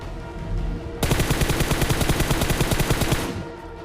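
MK14 designated marksman rifle firing on full auto in PUBG Mobile: a loud, close, rapid string of shots lasting about two and a half seconds, heard alone with no talking over it.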